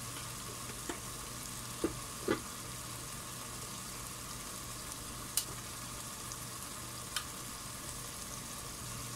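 Ground spices frying in a pan for a Kerala-style chicken curry, with a faint, steady sizzle and a few soft spoon scrapes and taps as the mixture is stirred.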